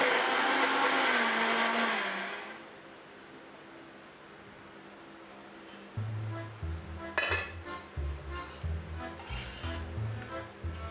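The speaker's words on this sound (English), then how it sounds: "Instead of chopping coriander leaves, I added that to the coconut and blended well with it." A kitchen blender whirs loudly for about two seconds while grinding coconut with coriander leaves into a paste, then stops, followed by quieter clinks and clatter of dishes and utensils.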